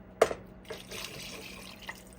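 Water splashes briefly then pours in a soft, steady stream into a container, close and fairly quiet.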